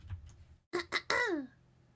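A couple of faint rough sounds, then two sharp coughs followed by a longer strained, voiced cough-like sound, close and fairly loud.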